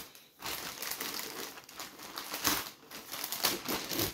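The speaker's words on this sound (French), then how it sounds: "On va déballer un petit peu." Packaging for a D819 Bowling RC car body is unwrapped up close, giving steady plastic crinkling and crumpling with sharper rustles, alone and fairly loud throughout.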